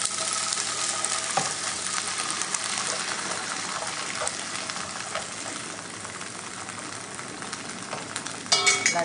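Asparagus and stock hitting a hot pan of chicken stir fry, a steady loud sizzle and hiss lasting throughout with light stirring scrapes and a brief surge near the end.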